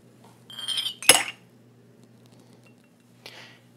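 Metal revolver parts from a Charter Arms Bulldog clink and rattle as they are dropped into a container of Ed's Red cleaner, a brief cluster of bright clinks followed by a single fainter clink, with no talk.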